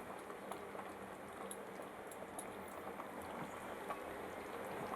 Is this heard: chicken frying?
yes